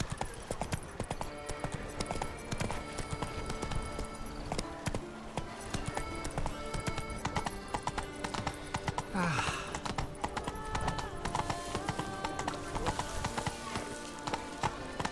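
Horse hooves trot in The Witcher 3 video game, a quick steady clip-clop of the mount running throughout alongside faint game ambience and music.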